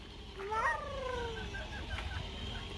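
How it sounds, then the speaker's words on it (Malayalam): A rooster at an animal park gives one clear crowing call that rises and trails off over steady outdoor background noise, heard from a moderate distance. "ഇതാണ് പൂവൻകോഴി."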